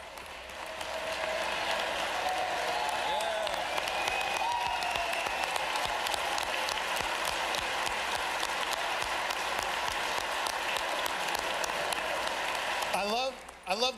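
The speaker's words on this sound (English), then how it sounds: "I love that our favorite plumber senator led the clapping for the trades." A large audience at a state budget address breaks into sustained applause for the trades, dense and steady for most of the stretch, with a voice resuming over the hall near the end.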